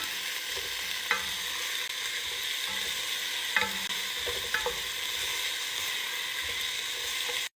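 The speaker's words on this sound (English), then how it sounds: "I'm gonna add the veggies. Give them a nice stir." Chopped vegetables, including finely cut carrots, sizzle in a soup pot for lentil soup while a spoon stirs them with a few sharp scrapes against the pot, close-up and steady, with no talking.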